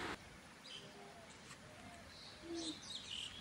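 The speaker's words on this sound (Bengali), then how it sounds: "চারিদিকে অনেক ধরনের গাছপালা, সেই সাথে পাখির কিচির মিচির সাউন্ড।" Faint chirps from birds among the trees at a resort near Dhaka, a few soft calls scattered over quiet background hiss, distant and sparse.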